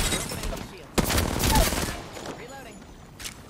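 Gunfire rings out in the battle royale game Apex Legends: rapid bursts of shots crack over a busy background of game noise, with sharp louder reports at about the one-second mark and again near the end.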